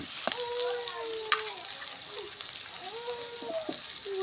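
Potatoes and onions go into a hot pan and fry with a soft, steady sizzle, broken by a few light clinks of a utensil, close and moderately quiet throughout.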